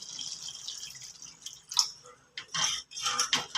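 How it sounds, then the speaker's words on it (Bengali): Water is poured into a pan of spiced fish curry to make gravy, giving short splashy bursts of liquid, close and moderately loud, with quiet gaps between pours. "এবার আমরা গ্রেভি করার জন্য একটু জল দেব"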